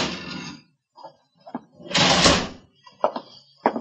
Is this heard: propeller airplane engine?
no